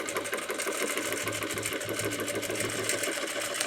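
A sewing machine stitches steadily and loudly throughout a free-motion quilting pass over a quilt sandwich, its needle chatter forming a dense, continuous mechanical whir with no gaps and no voices.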